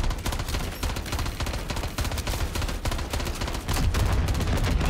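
Dense, continuous automatic gunfire in Modern Warfare 3 Zombies: loud, rapid shots rattling without a break for about five seconds, with no talking.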